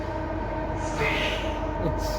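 Delhi Metro train running steadily, a continuous low rumble with a rising mid-range whoosh partway through, heard close and alone without talk.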